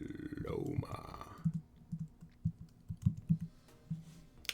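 Keys on a computer keyboard tap in short irregular bursts, close and soft, following a brief stretch of talk at the start.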